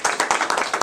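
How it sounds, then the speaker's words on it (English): Audience applause at a talk or seminar, a brief burst of rapid, fairly close hand clapping lasting under a second. "please give yourself a round of applause"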